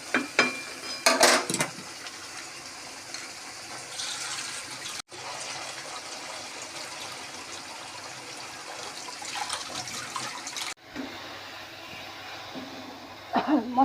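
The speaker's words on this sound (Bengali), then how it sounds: "এবার এটা খানিকক্ষণ একটু কষবো" A spice paste for fish curry sautés in a pan with a steady hissing sizzle, which cuts off abruptly twice. A few clattering knocks sound near the start and end.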